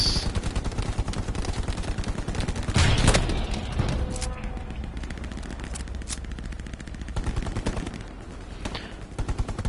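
Video game gunfire, with bursts of rapid automatic shots and single cracks firing repeatedly over several seconds alongside a heavier blast, loud and close, with a little talk.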